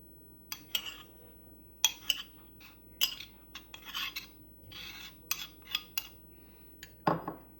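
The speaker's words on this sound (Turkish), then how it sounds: "Şimdi süzgeç yardımıyla şöyle bir kasemin içerisine hemen bunu alıyorum." Mixture of nigella seeds being strained through a metal sieve into a bowl, with scattered clinks and scraping taps of a spoon against metal, then a louder rasping push near the end.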